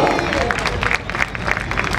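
A crowd at a ceremony honouring guests applauds a welcome, dense, continuous clapping with crowd murmur filling the whole stretch at steady loudness.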